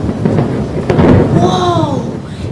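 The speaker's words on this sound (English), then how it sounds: "Let's listen to what thunder sounds like." Thunder from a storm overhead, loud and rumbling throughout with a sharp crack near the middle, joined by a brief whistle-like tone toward the end.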